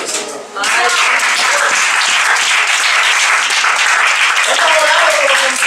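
A church congregation applauds in praise of the Lord, loud sustained clapping filling the room for several seconds right after a brief pause, with voices cheering underneath.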